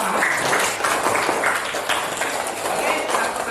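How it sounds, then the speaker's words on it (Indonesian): Schoolchildren in a classroom clap for the first group, a quick burst of loud, dense applause heard close by, with talk and voices mixed in throughout. "tepuk tangan untuk kelompok pertama"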